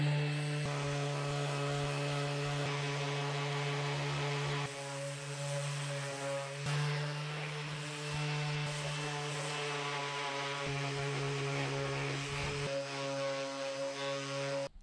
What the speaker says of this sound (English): let's give it a sand and see what happens